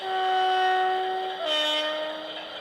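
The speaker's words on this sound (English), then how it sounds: "But anyway, low horn." A model train sound decoder sounds a low, sustained multi-tone horn chord for about two and a half seconds, dipping slightly in pitch midway, loud and alone with no talking.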